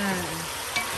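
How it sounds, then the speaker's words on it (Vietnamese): Steady, close sizzling of chicken stir-frying with lemongrass in a hot pan, a continuous crackle with no voices. "mình xào chung với sả nó thơm à"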